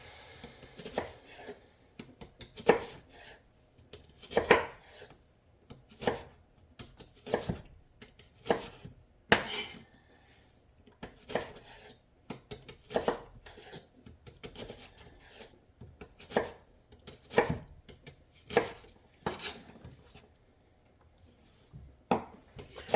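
A knife chops vegetables on a cutting board while elk chili is being made, giving a steady series of sharp, close taps in uneven bursts with short pauses between them.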